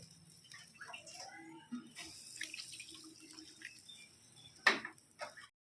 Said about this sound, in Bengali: কষে নেওয়ার পর এবার জল দিয়ে দেবো ঝোলের জন্য